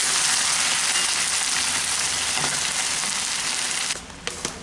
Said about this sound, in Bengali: এখন এর মধ্যে দিয়ে দিচ্ছি খুব সামান্য অল্প করে একটু জল।